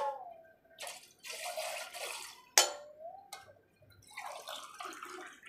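Water is poured into a homemade summer cooling drink mixture in a few separate splashing bursts with short pauses between them, fairly close and soft, with no one talking over them.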